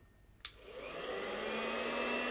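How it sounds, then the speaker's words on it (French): A handheld hair dryer switches on with a click and blows steadily at a turbine to simulate wind, its broadband whoosh rising and holding loud and close with a faint motor whine, no voices. "Pour simuler le vent, j'utilise ce sèche-cheveux."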